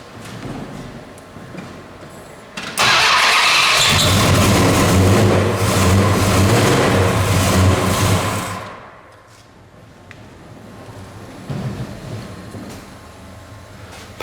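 A 1971 Dodge Dart Swinger with a 408 stroker V8 rated at 386 horsepower and dual exhaust fires up from cold: a sudden loud catch, several seconds of heavy roaring revs, then a drop into a lower, lumpy idle.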